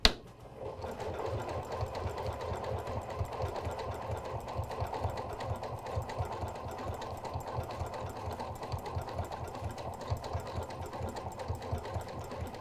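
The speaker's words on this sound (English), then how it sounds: "we're going to begin sewing" A Janome sewing machine stitches hand-look stitches along a seam, a steady close rhythmic whirring and needle thumping running continuously and alone throughout.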